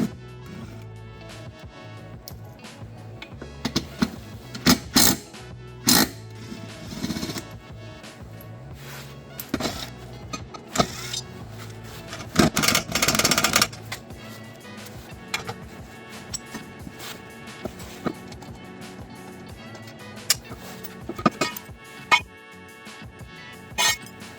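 A hand ratchet with a shallow socket working on transmission bolts of a 2000 BMW 528i: scattered bursts of quick metallic ticking and clicking, close by, with brief pauses between bouts.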